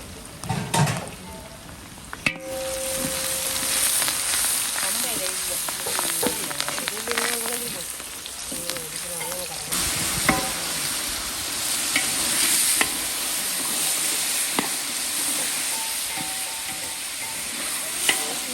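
Onions fry in a pan for a large outdoor lunch cooking, a continuous sizzling hiss with stirring scrapes and clanks, while voices talk intermittently over it.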